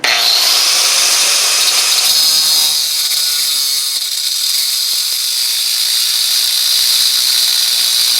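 Diablo cutoff wheel grinding through a steel wrench, a loud continuous high-pitched shriek close by that holds steady for the whole stretch with no talk.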